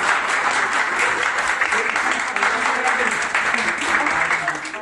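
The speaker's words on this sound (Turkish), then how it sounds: "Meslektaşları Önalan'ı tedavi gördüğü servisten alkışlarla uğurlarken" Colleagues at a hospital in Eskişehir applaud a doctor as she is discharged from the ward where she was treated, a steady, dense clapping from a group that carries on throughout, with some talk mixed in.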